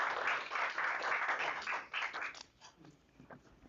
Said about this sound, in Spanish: Pueden aplaudir por él.